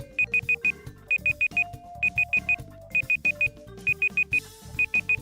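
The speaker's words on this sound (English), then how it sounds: "I'll turn the timer off because the thing is getting annoying" Electronic timer beeping in rapid bursts of four or five high pips, repeating every second or so over game music and chimes, loud and near, with no talking.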